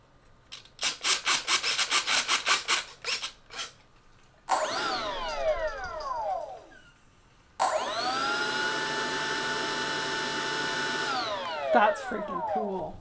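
An E-flite Habu STS 70mm electric ducted fan jet spools up with a rising, loud whine, holds a steady high-pitched roar, then winds down, preceded by a series of rhythmic rubbing strokes.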